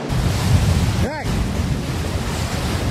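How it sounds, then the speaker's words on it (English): Wind and waves on the Sea of Galilee, with a steady wash of surf and wind buffeting the microphone, and a brief whistling or squeaking sound around the middle. "Hey, you stupid wind and waves!"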